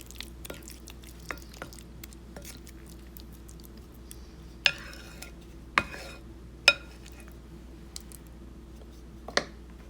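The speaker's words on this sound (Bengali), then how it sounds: "আমি একটা কাঠের স্প্যাচুলা দিয়ে নেড়ে দিচ্ছি।" Wooden spatula stirring marinated chicken for biryani in a home kitchen: scattered soft scrapes and a few sharp clacks against the bowl, over a steady low hum, with no talking.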